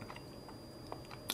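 Chewing fried chicken nuggets close to the mouth, soft moist crunches and bites spaced irregularly, faint and intimate over a quiet background hiss.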